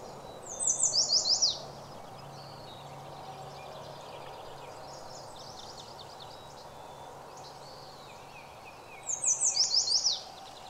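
Two short bursts of bright, rapid mountain bluebird chirps at a nest, one at the start and one near the end, over a quiet outdoor background.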